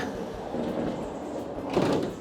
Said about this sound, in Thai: เปิดประตูออกมา